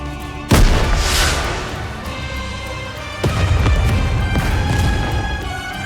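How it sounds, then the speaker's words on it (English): A rocket launcher fires in the game Nikke on a snowfield, a sudden heavy boom followed by a rumbling roar and a second deep blast that rolls on, loud and close. "a shell flies from the rocket launcher. And a resounding explosion causes the entire snowfield to be blanketed in thick plumes of white smoke."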